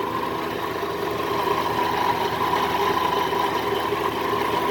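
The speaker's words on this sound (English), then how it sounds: "right now it seems to be idling pretty good" A supercharged 2009 Cadillac CTS-V engine idles steadily with a continuous mid-pitched hum and a faint whine over it, unchanging and fairly close throughout.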